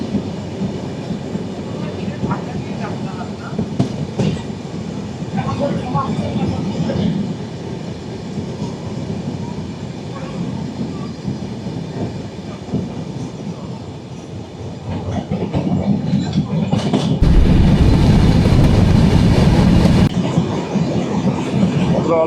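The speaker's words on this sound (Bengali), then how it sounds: "তো এই হচ্ছে বাংলাদেশি লোকাল ট্রেন।" A Bangladeshi local train, the Sundarban Express running from Dhaka toward Faridpur, rumbles steadily with rail clatter, swelling noticeably louder and rougher near the end.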